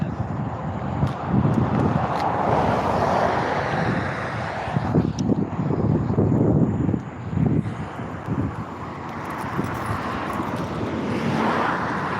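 Gusty outdoor wind buffets the microphone in steady rumbling waves that swell and ease over several seconds, close and continuous.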